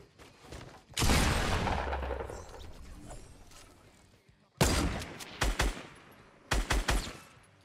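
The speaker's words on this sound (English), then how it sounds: "God, I love this gun. I love it so much." Bursts of gunfire from a player's weapon in Fortnite: a long loud volley, then a sharp cluster of rapid shots and a final quick burst of several cracks, close and punchy with no talking over it.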